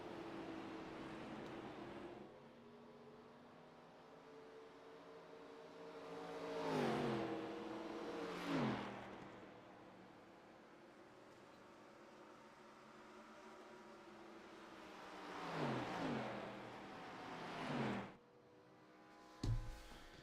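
Race car engines in a 1987 living legends series racing video game at Darlington, a steady engine drone with several loud rising revs and passes sweeping through, then a sharp brief burst near the end.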